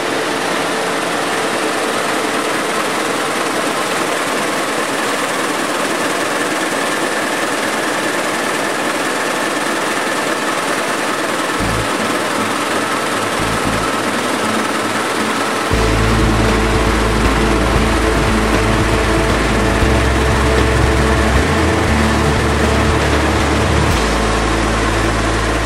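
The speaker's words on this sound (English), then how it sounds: "each bobbin goes into one of these machines to braid up your rope" Rope braiding machines in a climbing rope factory run as a dense, steady mechanical whir and clatter that fills the space, growing heavier and louder in the low end partway through, with no voices.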